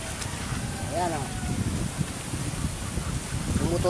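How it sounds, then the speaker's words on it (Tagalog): Strong typhoon wind roars and buffets the microphone, a constant low rumble with a few faint voices and tones drifting underneath. "Malakas ang hangin dito sa tabi."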